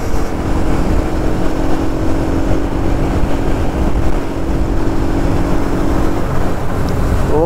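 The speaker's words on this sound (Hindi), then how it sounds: "तो इस वजह से थोड़ा भगा रहे हैं बाइक।" A motorbike is ridden fast at night on a road where elephants roam, giving a loud, steady engine drone and rushing wind noise close to the rider throughout, with no talking.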